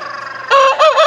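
A rooster crows loudly and close by, a short harsh call breaking partway through, with no other sounds around it.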